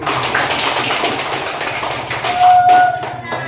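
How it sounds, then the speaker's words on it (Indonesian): A group of participants in a classroom coaching session claps to encourage the first group, giving a dense, moderately loud patter of hands that ends in a few scattered claps. "Silakan untuk memberi semangat kita tepuk tangan untuk kelompok 1"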